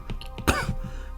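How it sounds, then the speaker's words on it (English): A single sharp, loud cough from a person with a sore throat, preceded by a couple of faint throaty sounds, with no talking. "Or is this just a silly little cough?"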